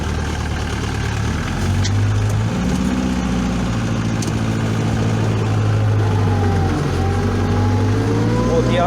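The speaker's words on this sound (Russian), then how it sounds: "вот видите, что трактор едет, пашет" A homemade tractor's engine runs steadily while plowing a field, a continuous low droning hum with mild rises and falls, close and loud throughout.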